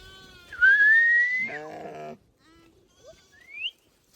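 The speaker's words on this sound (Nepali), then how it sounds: "छोटकाने भेडा" A loud sheep bleat rings out close by, followed by a wavering lower cry and a few faint, thin whistling calls.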